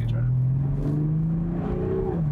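A 2020 BMW Z4 M40i sports car's engine revs, rising in pitch and holding a strong, close, throaty tone before dropping back, with people talking over it.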